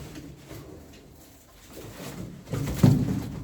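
Tumbler pigeons coo in a low, soft burst near the end, close by, with faint rustling before it and no talk.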